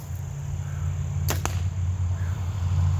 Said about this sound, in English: I'm just shooting my arrows today